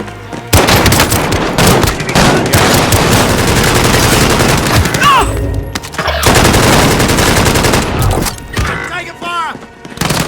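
Dense, loud video game gunfire in Assassin's Creed Origins, with rapid automatic bursts and scattered heavy thumps running almost nonstop, a few brief lulls, and some voice mixed in.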